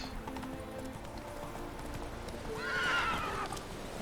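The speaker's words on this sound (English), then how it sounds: "then let's use our trusty horse" Roach, a horse in The Witcher 3, heard as steady rhythmic clip-clop of galloping hooves throughout, with a loud whinny near the end; no talking over it.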